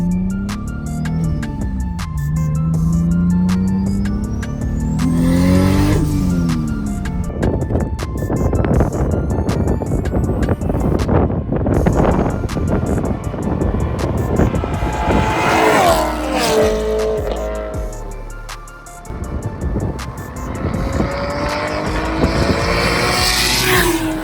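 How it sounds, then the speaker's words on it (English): Several cars roar past one after another, engines rising and falling in pitch as each sweeps by close and loud. "get like a flyby video of their car and my car"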